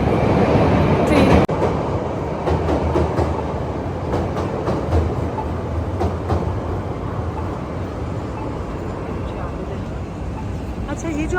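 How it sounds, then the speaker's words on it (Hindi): A train rumbles past up close in a city downtown, a steady loud roar of rolling wheels and rail noise with a brief sharp clatter near the start, with voices mixed into the din. "ट्रेन।"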